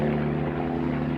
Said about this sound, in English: I've got a plane going that way, helicopter going that